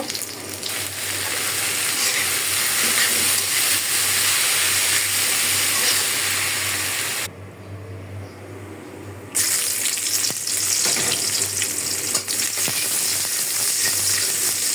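Water spinach greens hit hot oil with fried onion and garlic and sizzle loudly and steadily, with a brief quieter dip partway through before the frying roar returns.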